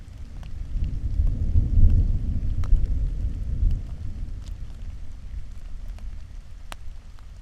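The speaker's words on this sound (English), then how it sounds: "Here is a recording of the thunder from that location." Distant low thunder rumbles across the Hammersley Wild Area, swelling and fading over several seconds, with steady rain pattering nearby and occasional close drips.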